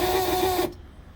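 Fuel pump on a Jaguar XJS 3.6 litre running noisily: a steady close mechanical whine with a buzzing hum that cuts off abruptly after under a second, leaving faint background noise.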